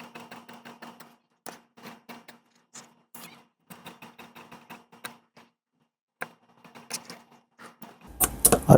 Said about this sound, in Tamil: இந்த பட்டிக்கான மார்க்கு இதை அப்படியே கட் பண்ணிடலாம்.